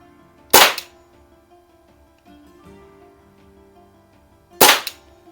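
A Daisy 188 BB pistol fires twice at a target, two sharp, loud cracks about four seconds apart with quiet background between them.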